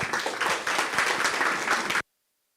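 Audience clapping at a launch event, dense steady applause for about two seconds that cuts off abruptly into silence.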